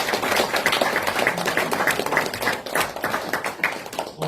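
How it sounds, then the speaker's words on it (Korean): Audience applause at a special lecture by a former South Korean foreign minister: a steady wash of many hands clapping, fairly close and sustained, with individual sharp claps standing out throughout. "박수 부탁드립니다."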